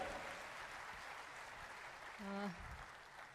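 An audience applauds steadily to welcome a guest onto a stage, a dense continuous clatter of clapping from a crowd, with a brief voice heard over it.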